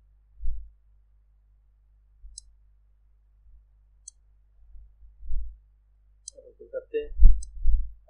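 A computer mouse gives a few faint, sparse clicks during Photoshop editing, spread out with long quiet gaps, followed by brief low speech near the end.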